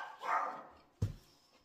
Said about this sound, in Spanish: No sé si es el vecino que está paseando al perro.